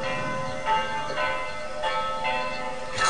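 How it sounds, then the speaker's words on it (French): Church bells ringing in a hometown, a dense, steady peal of overlapping metallic tones with repeated strikes, fairly close and loud, with no voices. "Les cloches sont les mêmes."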